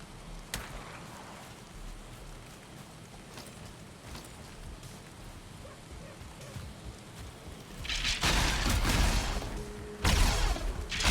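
Steady rain falls in the Black Forest biome of the video game Valheim, a constant soft hiss that swells into louder, denser bursts near the end.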